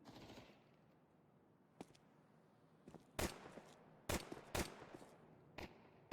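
Sharp gunshots in a Counter-Strike match, spaced single taps at range: a few faint distant shots early, then several louder cracks in an irregular rhythm over a low background.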